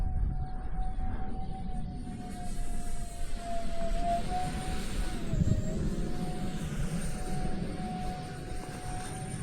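Continuous roar of an F-117 stealth jet engine in a video game, with a sustained whine on top, loud and steady throughout.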